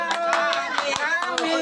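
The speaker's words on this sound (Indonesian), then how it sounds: "Mam, tepuk tangan dong." Hands clapping at a child's fourth birthday party at home, a short burst of quick, fairly close claps mixed with overlapping chatter and voices.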